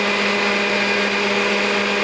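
Electric stand mixer churning cream into butter on a farm, a steady loud whirring motor hum with a constant high whine, running alone without talk.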